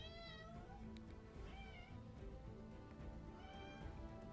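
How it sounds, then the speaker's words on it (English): A house cat meows insistently, several drawn-out, rising cries spaced across a few seconds against a quiet indoor room hum. "He comes in meowing like crazy, like he hasn't been fed in a year"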